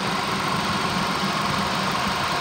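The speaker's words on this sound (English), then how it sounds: "motor sounds really good" A 2007 Ford Escape 4x4 with a 2.3-liter four-cylinder engine idles steadily at close range, a continuous low rumble with an even mechanical hum and no other sounds.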